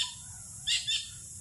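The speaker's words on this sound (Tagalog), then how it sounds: "ang ganda ng background natin, ibon" Birds call in the background near stingless bee hives by dragon fruit flowers, giving two brief high chirps mid-clip over a faint outdoor hush.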